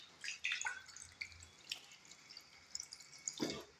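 Water drips and splashes lightly from a tap as hands are washed, scattered faint drops and small splashes at an irregular pace, close by and with no voices.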